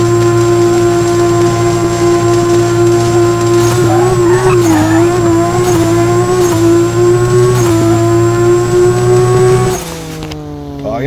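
Honda Civic EK9 all-motor drag car engine held revving in first gear in a drag racing game, a loud sustained buzzing drone with small wavering rises, then dropping off near the end.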